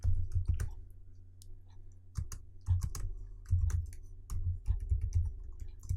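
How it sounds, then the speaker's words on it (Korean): Computer keyboard being typed on, a close run of crisp clicking keystrokes in irregular clusters with soft thumps between, no talk heard. "hello world라고 입력을 합니다."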